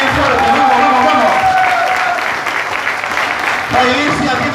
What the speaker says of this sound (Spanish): Dale un aplauso a Dios, bien fuerte, vamos.